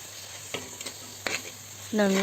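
Tomatoes being sautéed and mashed in a pan for country chicken rasam: a few scraping and tapping stirs over a low sizzle, ending in a louder burst of pan noise.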